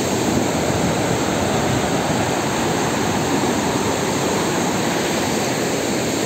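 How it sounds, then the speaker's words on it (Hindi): Cold mountain water rushes down into a river near the Chamunda Devi temple in Kangra, a steady, loud broadband roar of flowing water that holds unbroken throughout, with no voices. "बिल्कुल ठंडा पानी जो है पहाड़ों से जो है बहकर इस नदी में आ रहा है।"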